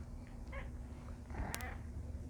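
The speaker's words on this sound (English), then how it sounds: "You can see my cat is going to join us today." A pet cat meows a couple of times, brief and moderately close, over a quiet room during a guided meditation.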